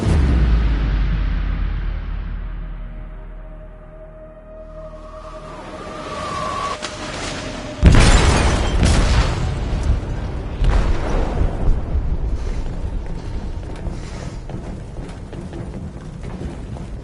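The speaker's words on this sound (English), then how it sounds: "They detonated an explosive in the hold." A heavy explosive detonation deep in a ship's hold in Detroit: Become Human, a sudden loud boom that gives way to a long, rumbling roar of debris and groaning metal, following a quieter stretch with a fading tone.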